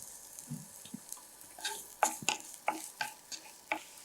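Onions frying in a little oil in a pan, with a soft sizzle and a series of close scraping and tapping stirs that grow more frequent toward the end, faint and without talk.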